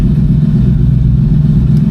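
A 1965 Ford Mustang engine drones steadily at a loud, even level while the car is driving, with no voices over it.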